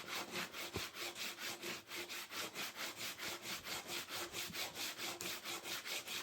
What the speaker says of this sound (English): Here I was just scraping and rubbing away for about half an hour. Just sanding.